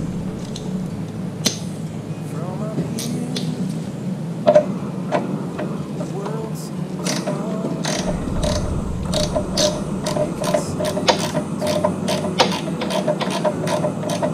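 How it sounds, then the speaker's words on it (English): Ratchet wrench loosening a 12 mm brake caliper bolt on a 2009 Yamaha FZ6R motorcycle, heard close up as repeated clicking, rasping mechanical strokes with a few sharper ticks and metallic clanks, no speech. "to loosen the 12 millimeter bolt."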